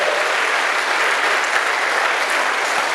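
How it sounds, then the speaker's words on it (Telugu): An audience at a training reunion event claps loudly and continuously, a dense, even wash of applause held for a few seconds with no pauses. "ఒకసారి గట్టిగా ఇప్పుడైనా చప్పట్లు కొడదాం"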